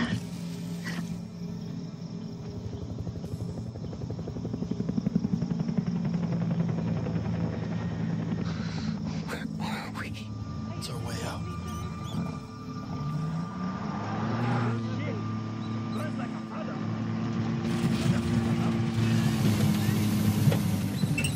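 Car engine in the Far Cry 3 video game drones steadily, rising and shifting in pitch as it nears and passes, with scattered game sounds and occasional talk over it.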